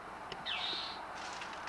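A bird calls from a hunting stand outdoors, a short bright chirping phrase rising and holding for about half a second, fairly clear against a quiet background with faint scattered sounds.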